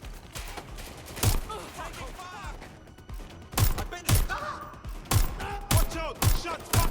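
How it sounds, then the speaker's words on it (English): Gunfire in the video game Watch Dogs Legion: a string of loud, sharp shots spread across the scene, several in quick pairs, with in-game voices calling out between bursts. "Incoming fire! Shots fired!"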